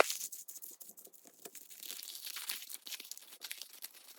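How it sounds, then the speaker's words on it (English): Paper vintage photo crumpled by hand, a close run of crinkling and crackling bursts that stays irregular and dry throughout, with no voices. "I will crumple it up one more time."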